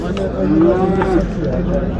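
A single drawn-out low moo from a cow at a livestock market in Çubuk, Ankara, with crowd chatter and market noise around it.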